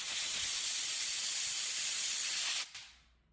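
A compressed-air spray blasts into an ASUS GL502VT laptop fan as a steady, loud hiss, then cuts off abruptly near the end, leaving a faint fading whir.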